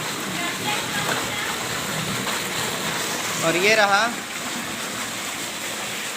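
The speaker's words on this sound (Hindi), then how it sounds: "और ये तेज़ बारिश आप देख पा रहे होंगे।" Heavy rain falls steadily over a village home, a constant broadband wash that runs the full length, with a short spoken phrase rising over it near the middle.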